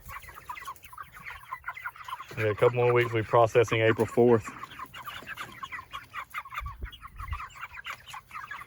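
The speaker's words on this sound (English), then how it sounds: "Here's the meat birds. So they're about 6 weeks old." A flock of six-week-old meat chickens on a homestead, clucking and squawking in a loud, close burst for a couple of seconds, with a person talking nearby before and after.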